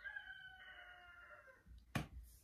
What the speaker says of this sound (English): I got the chickens in the background.